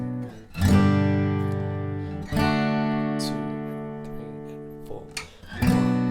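Acoustic guitar strumming the bridge of a song, sustained chords struck every couple of seconds and left ringing, close and clear with no voices.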